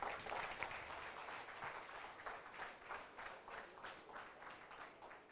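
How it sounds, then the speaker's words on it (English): Sustained applause from an audience at a placement career guidance talk, many hands clapping steadily at moderate volume with no voices over it. "Please give him a loud applause."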